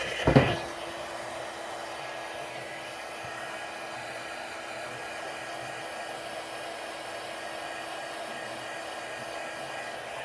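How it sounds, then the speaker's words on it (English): Heat gun blowing to shine a gold star on a nativity Christmas card, a steady even airflow hum running continuously after a brief clunk at the start. "gonna get the heat gun and then we're gonna get that shined"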